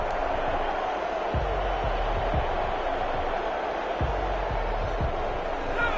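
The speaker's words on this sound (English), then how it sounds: "This crowd is ready" A stadium crowd in Madden NFL roars in a steady, dense wash of cheering and noise at a Los Angeles Rams versus New Orleans Saints game, with dull thumps occasionally breaking through.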